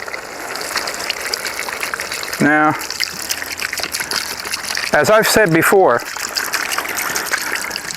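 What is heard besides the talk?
water poured into pot of stewed chicken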